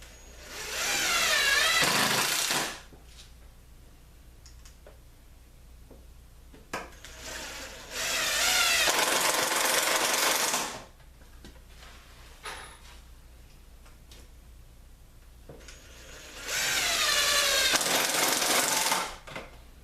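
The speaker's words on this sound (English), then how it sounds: "And I'm going to secure it. 4 screws." A power drill drives 2.5-inch screws into a wooden planter box in three loud, close bursts of a few seconds each, whirring and rising in pitch, separated by quiet handling knocks and no talk.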